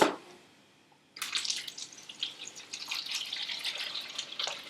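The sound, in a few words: water pump pumping water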